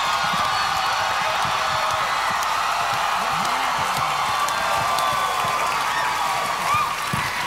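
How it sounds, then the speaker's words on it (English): A live television singing competition audience cheers and applauds, with continuous dense clapping and whoops that fill the room, a faint voice briefly under the crowd. "Got the crowd all pumped up"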